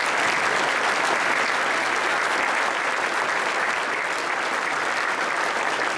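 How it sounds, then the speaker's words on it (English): A room full of people at a business awards and hall of fame evening applaud the night's recipients, with dense, even clapping that holds steady at full strength for six seconds without letup. "Let's give one more round of applause for tonight's recipients."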